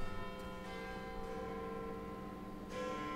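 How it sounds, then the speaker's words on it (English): Church bell tolling in the video game Hogwarts Legacy, a sustained ringing tone with rich overtones that swells again near the end, heard alone without speech. "Doth the bell toll?"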